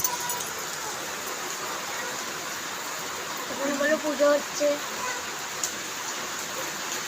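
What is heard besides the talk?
heavy rain falling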